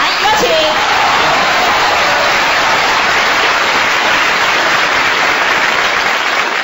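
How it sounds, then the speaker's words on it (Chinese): An audience at a crosstalk comedy show bursts into applause for two performers, a dense, steady wall of clapping that fills the whole stretch at close, loud level with no break. "我们再次用热烈的掌声有请两位"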